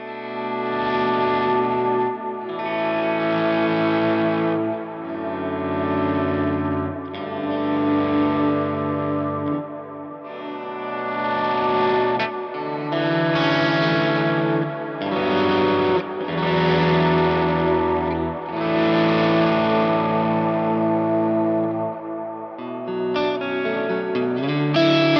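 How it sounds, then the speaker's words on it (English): Sustained electric guitar chords fade in slowly via a volume pedal and bloom into long delay repeats and washy reverb, notes overlapping continuously with no talking. "we're gonna swell into delay and reverb and hear what that sounds like"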